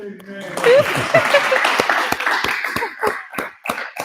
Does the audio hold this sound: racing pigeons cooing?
no